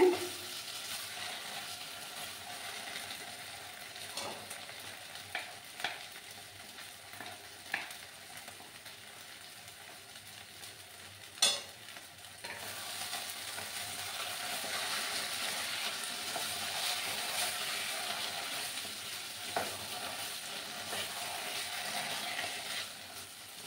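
Carrot laddu mixture being stirred in a pan: a soft, steady sizzle with scattered scraping strokes and a few sharp clicks of the spoon against the pan, close by and with no talking.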